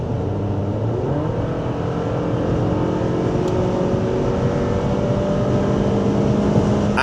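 A RAV car accelerating: a steady, full engine drone with rising tones as it pulls, heard close and continuous throughout, with no talking.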